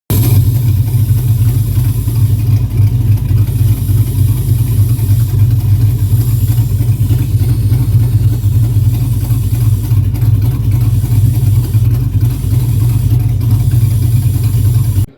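A truck engine with a brake booster vacuum leak runs loud and steady nearby, a continuous deep rumble with slight revving swells throughout and no talking.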